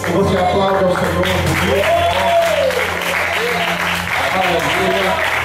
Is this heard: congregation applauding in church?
yes